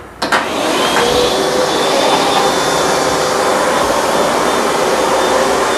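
Hoover Dual Power Max carpet cleaner running over a greasy, dirty carpet: a loud, steady motor whine and suction roar that starts abruptly and holds constant, with no talking.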